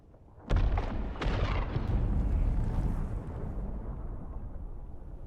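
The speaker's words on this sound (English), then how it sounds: "It was an enormous explosion of some kind. A spice blow here?" A spice blow in the video game Dune: Awakening bursts as one sudden, loud, deep explosion, then rumbles on as a long heavy roar that slowly fades, with no talking over it.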